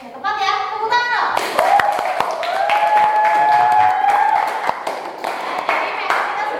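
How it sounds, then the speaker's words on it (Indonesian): A school class claps together, a brisk burst of many hands running steadily for several seconds, with children's voices talking over it. "Tepat ya, tepuk tangan dong."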